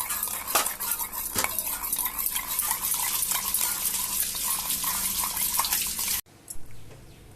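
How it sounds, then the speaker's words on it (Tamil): A spoon stirs custard powder into milk, clinking and scraping rhythmically against the bowl up close for several seconds before the sound abruptly cuts to a quieter background. "கஸ்டர்ட் பவுடர் கொஞ்சோண்டு போட்டு பாலில் நல்லா கலக்கிக்கணும்"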